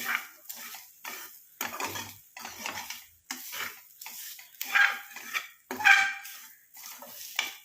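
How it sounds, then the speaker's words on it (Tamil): A spoon stirs a thick homemade coconut hair dye mixture in a pan, scraping in repeated rhythmic strokes with clinks against the metal, close and fairly loud, with no talking. "நம்ம இந்த மாதிரி கரண்டி வச்சாதான் இதை நல்லா கிளறி விட முடியும்"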